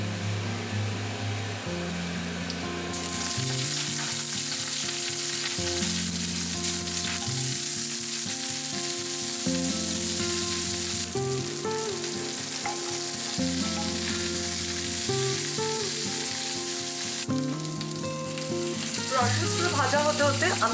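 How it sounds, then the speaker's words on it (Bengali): Brussels sprouts fry in very hot oil in a cast iron skillet, giving a loud, steady sizzle with stirring noises running throughout, with no talking. "তেলটা প্রচন্ড গরম হয়ে গেছে, এবার আমি এর মধ্যে ব্রাসেলস গুলোকে দিয়ে দেবো।"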